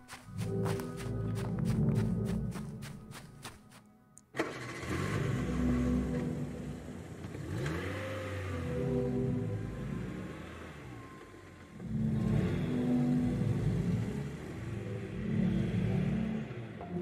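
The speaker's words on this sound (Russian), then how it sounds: "Так, что это? Машина, да?" A car engine revs in the video game Welcome to Kowloon, a rumbling mid-range engine rising and falling in surges over about seventeen seconds, moderately close and quiet overall, after a brief burst of rhythmic clicking at the start.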